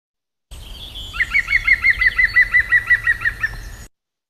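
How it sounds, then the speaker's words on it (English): Green woodpecker giving its loud laughing call: a rapid, even series of about a dozen ringing notes, clear and alone in open countryside. "The green woodpecker is a bird with a loud call that sounds like laughter."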